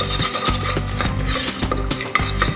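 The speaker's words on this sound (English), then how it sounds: "What we do now is we go ahead and give this a stir, just to kind of cook these dry spices a bit." Dry spices being stirred in a pan for butter chicken, a busy run of scraping and rubbing strokes with light metallic clinks, close and steady, with no talking.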